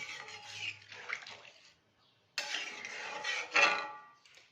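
Hot water poured into a cooking pot of potatoes, a steady splashing pour in two bursts with a brief pause between, close and moderately loud.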